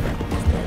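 A horse galloping in the video game Red Dead Redemption 2, a quick burst of rhythmic hoofbeats with low thuds.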